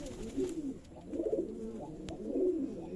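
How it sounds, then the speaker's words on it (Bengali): Soft, throaty cooing of Giribaz and racer pigeons in three rolling bursts, low and close, with faint rustling between calls and no talking. "আমার কবুতরগুলো অনেক ডাকাডাকি করে"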